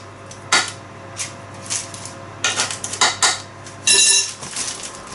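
A banana bread pan goes into a home oven and the metal door shuts: a series of clanks, scrapes and clinks of metal on metal, ending in a louder bang, close and with no talk.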